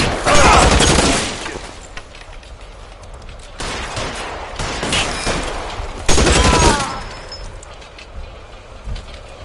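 Loud bursts of gunfire from the L.A. Noire video game erupt in three heavy volleys, each trailing into a rumbling echo, with quieter noise between them.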